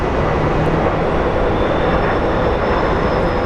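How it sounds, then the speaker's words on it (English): A Sun Country Airlines airliner passes near Phoenix Sky Harbor, a loud steady broadband jet roar with a faint high whine, continuous throughout. "right after that we have a Sun Country Airlines coming through"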